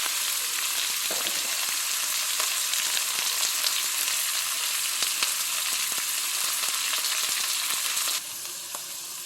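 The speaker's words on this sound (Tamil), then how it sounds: "அடுத்து வெங்காயம் நல்லா வதங்கட்டும்." Onions sauté steadily in hot oil in a pan for a hotel-style vada curry, giving a continuous close sizzle with faint stirring clicks and no talk.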